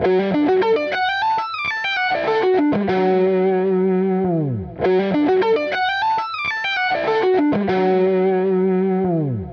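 A distorted electric guitar plays fast repeating arpeggios, notes cascading up and down in a looping pattern with a sustained note ending each phrase.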